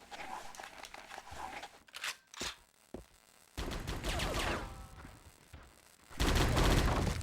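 Sustained machine gun bursts in the Die Hard: Vendetta video game, rapid crackling volleys that stop and start, with a loud heavy stretch near the end.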